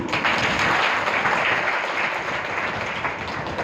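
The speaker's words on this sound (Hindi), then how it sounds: "ताली बजेगी।" An audience at a spiritual gathering in Pachore, Rajgarh claps together in a full, steady burst of applause that holds evenly throughout.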